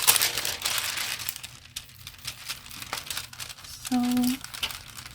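Aluminium foil being crinkled and rubbed over a failed resin pour, a close, crackly rustling that comes in uneven bursts, with brief speech-like sounds mixed in.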